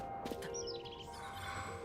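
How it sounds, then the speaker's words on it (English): Faint chirping of grasshoppers in a video game's treasure-hunt world, a few thin high chirps over a soft steady ambient background. "Those are grasshoppers."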